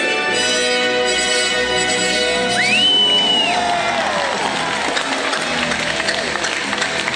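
Spectators at a SeaWorld Orlando orca show cheer and clap together, a loud crowd roar with whoops and children's shouts over background music.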